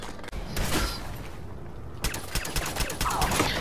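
Pipe pistol shots and mechanical clicks in Fallout 4, a cluster of sharp reports with rattling action sounds, moderately loud over game ambience.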